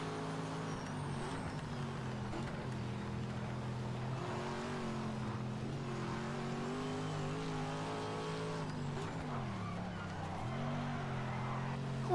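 Race car in the video game Project Motor Racing, a steady engine drone with shifting revs and a dip as it slides through a corner, heard alone at moderate level.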